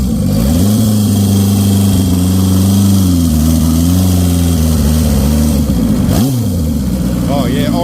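A fully tuned Honda CB750 Turbo motorcycle pulls hard on a test ride, its engine note rising and falling loudly through the gears with a sharp dip and recovery near the end, and wind rushing steadily beneath it.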